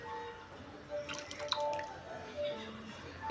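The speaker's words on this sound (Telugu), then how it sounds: "చింతపండు పులుపుని వేసుకుందాం." Tamarind juice is poured into a simmering pumpkin stew in a kitchen, giving soft liquid splashing and dripping that rises briefly in the middle amid quiet background hum and faint tones.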